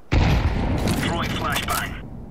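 A grenade blast in Counter-Strike 2, a sudden loud boom with a sustained roaring rumble lasting about two seconds, with a voice speaking over it.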